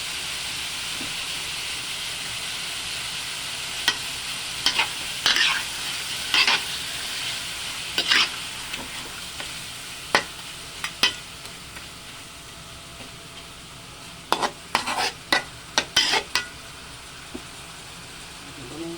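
Spoon stirring buttered chicken adobo marinated in vinegar and soy sauce in a pan, a steady soft background hiss with a series of sharp scraping clinks in irregular bursts, clustering densely near the end.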